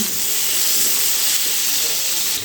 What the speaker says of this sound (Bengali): এবারে খুব ভালো করে একটু লাল লাল করে আলুগুলো ভেজে নিতে হবে